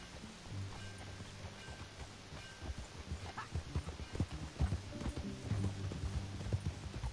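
Horse hooves clip-clop steadily while riding in the video game Red Dead Redemption 2, a near, rhythmic trot over a low ambient bed with faint outdoor rustle.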